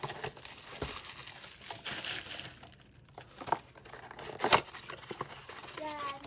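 Packs from a 2024 Prizm Baseball box being torn open, with crisp foil crinkling and tearing in bursts, a couple of sharper rips near the end, close and fairly loud, no talk.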